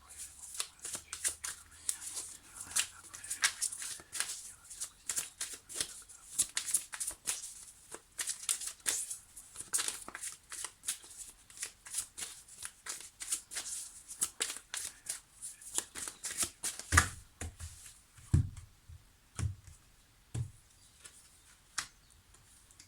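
Tarot cards shuffled in a rapid, dense flurry of riffling snaps, close and continuous, ending with a few slower, heavier card slaps.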